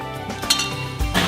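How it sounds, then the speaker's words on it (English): A few ice cubes clink into a glass of whiskey being made into an Old Fashioned-style cocktail, giving short close glassy knocks and a rattle that settle near the end. "And then we're going to add 2 or 3 normal ice cubes."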